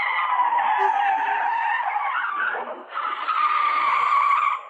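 Car tires skidding as the car reverses, a loud, continuous squealing screech that holds for several seconds, dips briefly midway, then resumes before cutting off.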